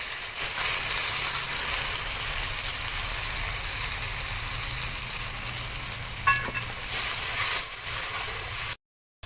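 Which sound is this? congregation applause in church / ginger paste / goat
ginger paste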